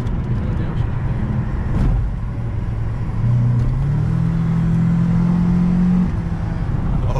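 A Toyota Camry accelerates hard in second gear, its engine note climbing in a loud, sustained pull amid road and wind roar, with voices from inside the car.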